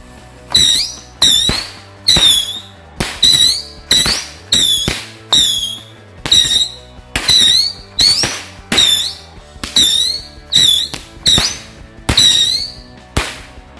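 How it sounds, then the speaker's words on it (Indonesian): A Patriot Missile 16-shot firecracker box goes off beside a house, firing a steady string of sharp whistling shrieks, each ending in a crack, about one every second, loud and close with no talk. "selanjutnya kita nyalakan mercon Patriot Missile yang 16 shoot"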